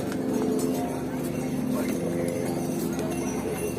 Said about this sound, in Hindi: फिर भी घोड़े जा रहे हैं।